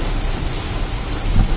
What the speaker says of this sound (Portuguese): Seguimos com chuva, hein? Muita chuva.